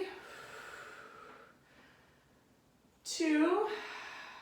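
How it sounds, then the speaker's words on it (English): Breaths during a seated arm-across-the-body stretch: a soft, drawn-out exhale, a pause, then a sharp, louder snorting inhale close to the microphone. "Breathing."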